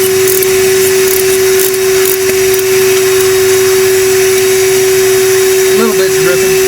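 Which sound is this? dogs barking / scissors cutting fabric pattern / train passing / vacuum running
vacuum running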